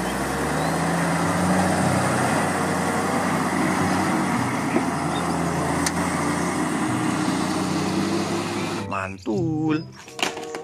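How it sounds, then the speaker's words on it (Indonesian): A red sand dump truck drives past with a steady, droning engine hum that fades out near the end, where a voice briefly speaks. "Wow, ada mobil truk pasir atau mobil dump truck teman-teman."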